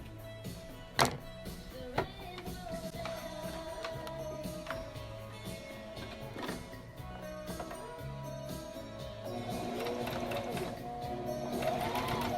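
A sewing machine straight stitching a blazer, running as a soft close mechanical whir with a couple of sharp taps near the start, growing busier and louder toward the end, with no talk.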